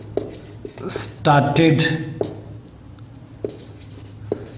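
Pen or chalk scratching out an accounting journal narration during a lecture, a few short strokes among loud speech, then sparse faint taps and scrapes as the lecturer talks quietly.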